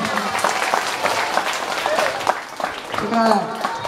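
Children clap together in a brief burst of applause during an Islamic school talk, with a voice speaking over the clapping.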